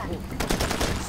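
Gunfire in the video game Far Cry 2 crackles as a short, dense burst of rapid shots, loud and close, over continuous game background noise.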